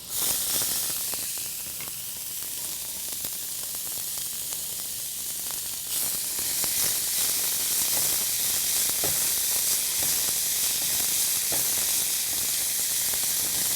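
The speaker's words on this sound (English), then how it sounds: "there's nothing quite like onions in butter" Onions sizzling in butter in a pan, a steady close hiss and crackle that grows a little louder partway through, with scattered pops, no talking.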